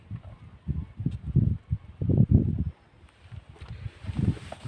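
Wind buffets a microphone outdoors beside a car being fitted with an E85 conversion kit, low irregular gusts rumbling close up in uneven bursts with no speech.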